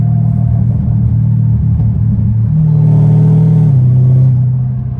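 A straight-piped Dodge Hellcat Redeye drives along with a loud, steady low engine drone and a rising supercharger whine that steps up in pitch mid-clip before easing off, heard close from inside the car.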